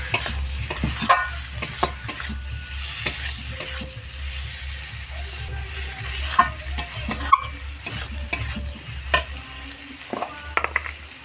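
Potatoes sizzle steadily in hot oil in a pan for aloo dum, with a spatula scraping and knocking against the pan in frequent, uneven strokes.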